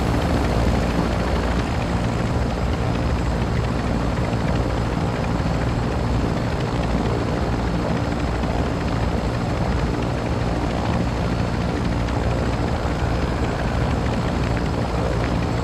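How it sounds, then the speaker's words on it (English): A helicopter's rotor in Call of Duty: Modern Warfare II thumps loudly and continuously, a dense, steady chopping roar close by with no break throughout. "Are you on the helicopter still?"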